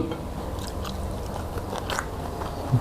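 Close, soft biting and chewing on a fish-sauce-marinated, sun-dried fried chicken wing dipped in jaew chili sauce, with a few moist crunches.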